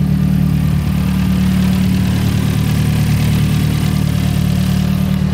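A fully built Mazdaspeed 3 fitted with two-step launch control idles loudly and steadily up close, a deep, even engine drone with no talk over it.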